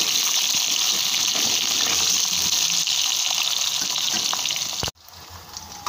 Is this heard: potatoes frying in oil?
yes